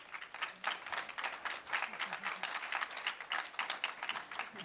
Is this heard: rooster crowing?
no